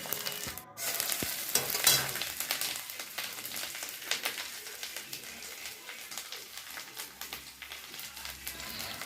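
Ground spice paste and cut potatoes frying together in a pan for a thin fish curry: a close, steady crackling sizzle broken by irregular stirring scrapes and clicks throughout.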